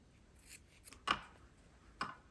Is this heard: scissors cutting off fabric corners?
yes